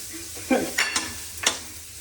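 Onion frying in a pan, a soft sizzle under several sharp scraping stirs of a spatula against the pan, close and intermittent.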